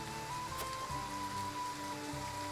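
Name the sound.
rain in a Triangle Strategy video game scene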